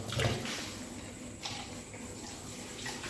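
Water splashes into a pot of chicken being cooked, a continuous close wash of liquid noise with a brief louder burst at the start and no speech.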